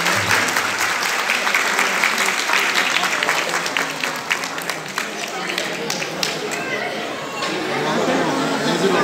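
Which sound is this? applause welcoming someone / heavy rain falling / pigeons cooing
applause welcoming someone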